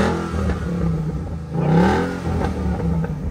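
Modified Ford Mustang engine revving loud and close, a continuous throaty drone that swells and rises in pitch midway, then settles back to a steady rumble.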